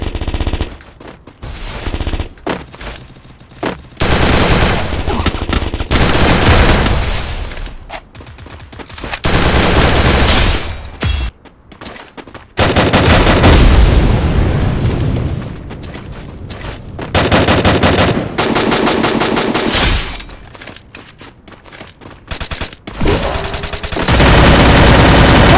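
Rapid automatic gunfire from a P90 and a Woodpecker in a ranked Grandmaster video game match, loud sustained bursts repeating through the clip with short gaps between volleys.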